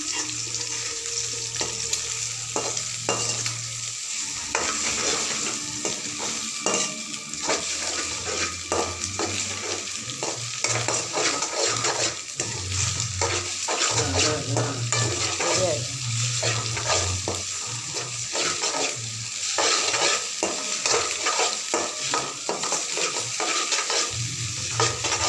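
Egg poriyal stirred in a pan: a loud, constant sizzle of frying with steady scraping and clinking of the spatula, close up, and a low voice occasionally murmuring underneath.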